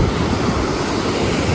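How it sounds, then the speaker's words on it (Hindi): Steady rushing water of a mountain waterfall in Kalam valley, a broad continuous roar heard from nearby with no pauses and no voices. "आप देखें तो झरना आ रहा है, बहुत ही हसीन झरना है ये।"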